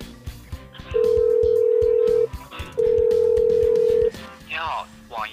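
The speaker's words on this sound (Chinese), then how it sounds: "这期视频我们来打客服电话吧" A phone call to a game company's customer service line sounds two long, even ringing tones close up, with voices talking before, between and after them.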